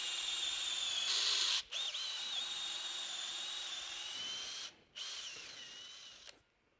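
Electric drill boring holes in wood for an insect hotel, a whining motor that holds steady, cuts out twice with short pauses, then winds down near the end.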